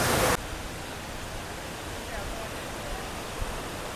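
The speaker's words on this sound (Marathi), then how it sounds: "हा आहे सावडाव धबधब्याचा वॉटरफॉल" Savdav waterfall sends out a steady, broad rush of falling water that stays even and continuous throughout, opening with a brief louder burst.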